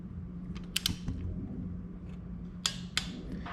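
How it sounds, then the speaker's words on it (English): A torque wrench tightens a spark plug on a Honda VTX to 13 foot-pounds, producing a few faint, crisp ratcheting clicks in two small clusters over a low background hum. "So let's torque it."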